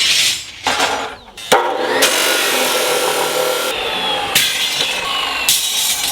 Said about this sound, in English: I need to cut all these pieces exactly to 90 centimeters